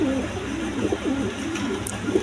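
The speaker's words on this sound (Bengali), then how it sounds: "এক পেয়ার ব্ল্যাকলেস শার্টিং কবুতর, দেখেন খুব ডাকাডাকি করতেছে" A pair of Blackless Shirting pigeons call repeatedly and close by, their low cooing phrases rolling one after another over a steady background hum.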